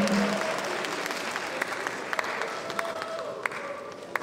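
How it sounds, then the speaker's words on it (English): Applause from an audience at an induction ceremony for newly qualified physician assistants, a dense steady wash of many hands clapping throughout with a few sharper claps standing out near the end. "Can we give President King a very big applause?"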